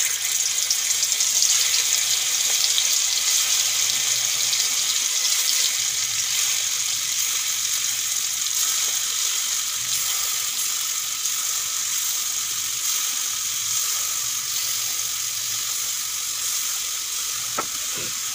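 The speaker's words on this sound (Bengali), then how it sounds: "ঘি গরম হয়ে গেছে, এখন এই দেখুন মেখে রাখা মাংসগুলো ভেজে নেব।" Marinated chicken fries in hot ghee with a loud, steady hissing sizzle that carries on without a break, close by and with no voices.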